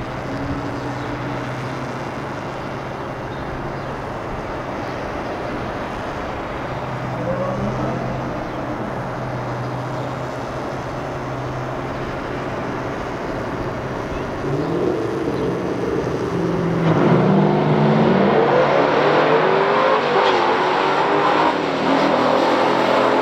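A 1972 Dodge Demon 340 and a 1970 Pontiac Tempest GT-37 launch in a stock drag race, a sustained rumble of engines heard from a distance that builds louder and rougher toward the end.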